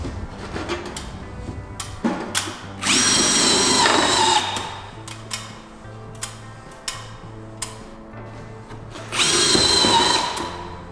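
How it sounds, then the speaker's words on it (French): A power screwdriver drives screws into overlapping steel roofing sheets on a flat roof, whirring in loud bursts of a few seconds each, separated by ticking clicks and intermittent buzzing hum. "Je visse également une onde sur l'autre."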